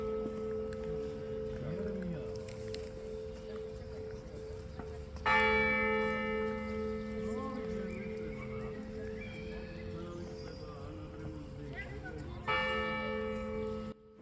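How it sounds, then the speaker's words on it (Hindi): Church bells in Tbilisi toll the hour of twelve, ringing on with steady sustained tones; fresh strikes land at intervals over a continuous hum, with faint background sounds and occasional voices underneath. "इसलिए बड़े मज़े से 12 घंटियाँ हमने सुनी"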